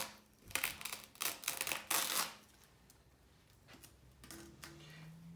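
Secured tape peeled off an IV site during a clinical IV skills check: several close, rasping tearing bursts in the first two and a half seconds, then quieter small rustles.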